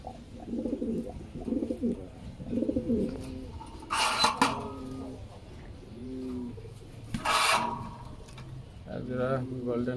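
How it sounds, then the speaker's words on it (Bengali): Red Lahori pigeons coo in a loft in several soft, rolling bursts that repeat through the clip, close by and fairly clear, with some talk between the calls. "সবগুলো ডিম বাচ্চা করা কবুতর এখন রেস্টে দিয়ে রাখছি।"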